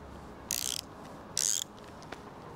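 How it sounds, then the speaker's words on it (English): Two short ratcheting bursts from a socket wrench working loose an O2 sensor on a Porsche, each lasting a fraction of a second, close and fairly loud against a quiet background, followed by a faint single click. "unscrew the O2 sensor"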